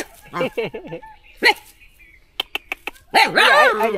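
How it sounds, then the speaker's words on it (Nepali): A dog barks at a passerby near Barahachhetra temple in a quiet, deserted spot, giving a quick run of sharp barks between stretches of someone talking. "भुक्दैछ है मलाई भुक्दै है यसले"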